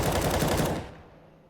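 Desert Eagle pistol fire spammed in a CS:GO Faceit match, a fast loud run of shots that cuts off and trails into a fading echo.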